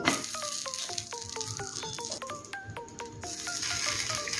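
Paneer-stuffed paratha sizzles steadily in a hot frying pan over a medium-high gas flame, a continuous close crackle running the whole time beneath a light, stepping melodic tune.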